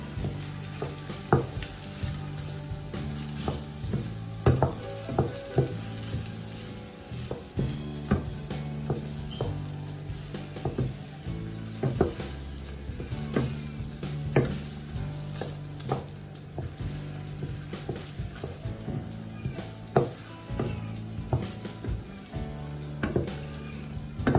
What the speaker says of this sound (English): I'm going to stir for about 2 minutes.